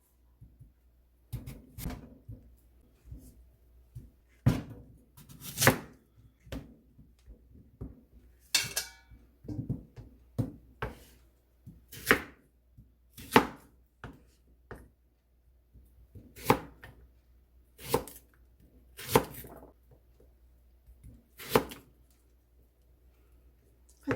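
A knife slicing radish into thin 0.3 cm pieces on a cutting board for nabak water kimchi. Crisp, distinct chops fall at an uneven pace over about twenty-four seconds, with quiet pauses between strokes.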